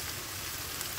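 Ghee sizzles steadily in a hot pan while mocha ghonto, a banana flower dish, cooks, giving a close, even hiss with no talk.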